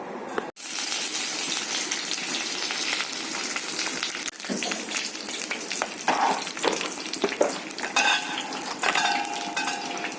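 Hot oil sizzles and crackles steadily in a pan in a home kitchen, close and fairly loud, with occasional clinks of a utensil against the pan and brief gushing bursts.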